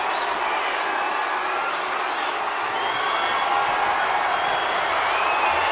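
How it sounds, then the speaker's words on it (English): Capacity arena crowd at a wrestling casket match roaring continuously, a dense sustained wash of cheering and applause with scattered whistles, steady and loud throughout. "you hear this capacity crowd following you on that journey"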